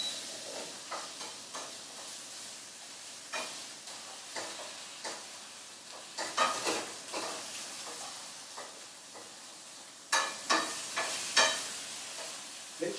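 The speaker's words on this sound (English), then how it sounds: "So I'm just searing the outside, yeah. Getting a nice bit of colour on that." Beef medallions searing in a hot pan give a loud, steady sizzle, with bursts of sharp crackling pops that grow denser toward the end. No voices are heard.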